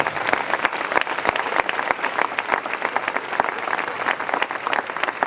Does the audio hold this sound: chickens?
no